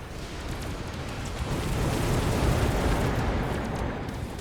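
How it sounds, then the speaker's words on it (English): Missile impacts rumble through a Mechabellum battle as strikes land on advancing rhino units, a dense continuous roar of overlapping blasts that swells toward the middle and stays loud throughout. "You can see my missile hitting here, slowing down the rhinos."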